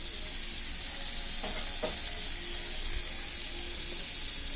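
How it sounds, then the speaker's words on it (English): Butter melting in a hot wok gives a steady, fairly soft hiss and sizzle throughout, with a couple of faint clicks partway through. "now that the wok is hot enough to start the next steps, we're going to melt some butter."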